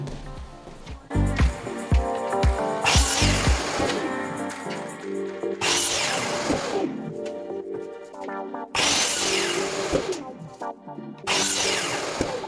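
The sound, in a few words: cutting moulding trim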